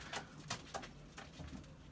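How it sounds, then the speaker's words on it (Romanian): Pigeons coo in a breeding loft, with several soft, low, rounded coos arriving at irregular intervals close by, alongside faint rustling and no talking. "porumbeii mei din compartimentul de reproducție, cum se prezintă."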